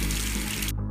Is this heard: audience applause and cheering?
no